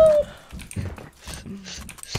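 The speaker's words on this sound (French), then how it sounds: "On dirait un chien, un chien dessus." A dog-like whimper and yip rises from a Fortnite Battle Royale match, short whiny tones over choppy game sounds and faint voices.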